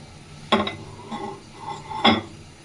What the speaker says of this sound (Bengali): এবার আমি ঢাকনাটাকে খুলে নিচ্ছি, দেখছি কীরকম হয়েছে।